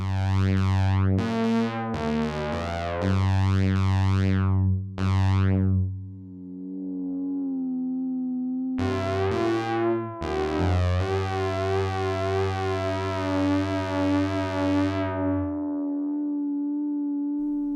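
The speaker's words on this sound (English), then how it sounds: "you can hear there that spring reverb style tone." Synth tones from the Voltage Lab 2 with a metallic, springy reverb shimmer, several sustained notes that start and stop, ringing alone with no voices.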